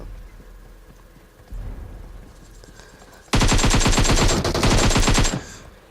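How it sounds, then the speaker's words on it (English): Rapid bursts of gunfire from a battle royale video game, a quieter stretch of rattling shots giving way to a loud, dense volley lasting about two seconds before cutting off. "And I decide that I might as well take a shot at him."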